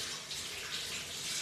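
Tap water runs over hands being rinsed in a kitchen, a steady soft splashing hiss at low level throughout.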